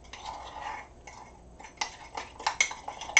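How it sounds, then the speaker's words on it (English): A spoon clinks and scrapes against a bowl while stirring cupcake batter, light irregular taps that grow sharper and louder toward the end, close by with no talking. "Okay, I want to stir it up really good."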